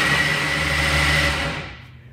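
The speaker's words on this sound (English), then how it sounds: "Okay, let's try to crank it again." A Shorrock-supercharged Austin-Healey Sprite engine cranks on its starter, making a steady mechanical whir with a humming drone that runs for over a second and then winds down and fades, with no voices.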